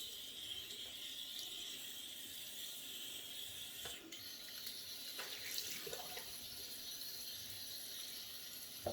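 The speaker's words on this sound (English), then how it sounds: "Now I'm going to rinse this under cold." Razor rinsed under a slow, restricted stream of cold tap water in a sink, a continuous soft hiss and trickle with a few brief clinks of metal against the basin.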